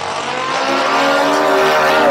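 Drag racing cars, a Chevrolet Camaro and a Pontiac G5, launch at Lucas Oil Raceway with a loud, continuous engine roar and tire squeal. The high-pitched wail stays close and intense throughout and climbs steadily in pitch.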